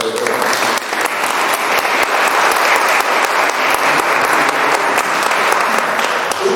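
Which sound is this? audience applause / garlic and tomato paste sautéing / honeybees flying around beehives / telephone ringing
audience applause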